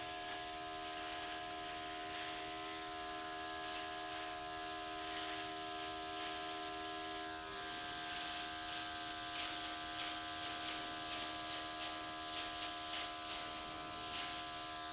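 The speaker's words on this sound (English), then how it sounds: "I'm going to take my airbrush and just blow a little bit of that purple and white into that green." An airbrush sprays purple and white acrylic paint onto a Dutch pour flower painting, a continuous fine hiss over the steady whine of the compressor, constant throughout with no voices.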